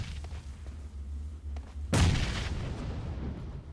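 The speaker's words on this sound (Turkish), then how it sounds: "Abi adam Efsane bomba atıyor." A single grenade explosion in PUBG Mobile lands as one sharp, heavy boom and then trails off into a rumbling decay, over a low steady background hum.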